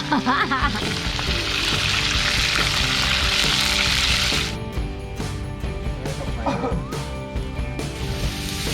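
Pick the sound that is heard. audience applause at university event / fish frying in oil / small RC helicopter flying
fish frying in oil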